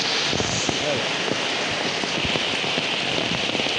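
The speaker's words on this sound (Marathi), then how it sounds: "भयंकर नॉन स्टॉपेबल पाऊस आहे" Heavy, nonstop monsoon rain pours down outdoors in the Konkan countryside, a dense, loud, unbroken roar of drops with faint patters throughout.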